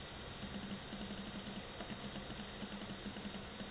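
Quick clicks of a computer mouse used to select small areas in Photoshop, heard as a faint but regular patter of light, crisp taps in short bursts across the stretch with no talking.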